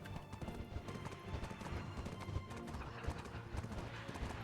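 Horse hooves in Black Desert Online clip-clop at a steady, brisk rhythm, a dense run of hoof strikes over a constant background of game ambience.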